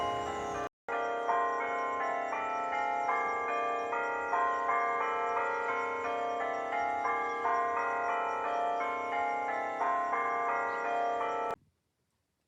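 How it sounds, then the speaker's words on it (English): Bells ring continuously in a small rural Tennessee town, a layered, chiming tangle of tones, steady and fairly loud for several seconds, then stop abruptly. "the bells are never going to quit"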